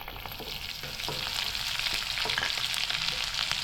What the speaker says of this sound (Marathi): त्याच्यामध्ये मी राई घालते जिरा घातले आता एक कढीपत्ता आणि ओळी मिरची घेतली ते घालते